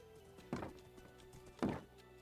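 A horse in the Minecraft video game makes two spaced, soft hollow hoof clops, faint and close, over a quiet steady hum with no talking.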